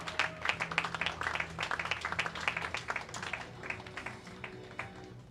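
Dense clapping from a crowd at a youth bowling championship medal presentation, steady and sustained for several seconds, with a low hum running underneath.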